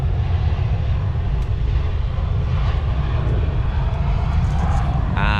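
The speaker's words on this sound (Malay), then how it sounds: "kapal terbang landing." An airplane landing close to a roadside fishing spot beside a runway, a loud continuous jet engine roar filling the whole stretch without pause.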